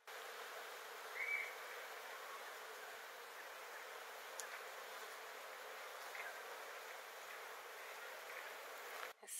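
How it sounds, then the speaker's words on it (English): Bees hum around a flowering fall-color tree at Boyce Thompson Arboretum in Superior, a faint, steady buzzing swarm with one brief louder pass near the start. "Can you hear the bees?"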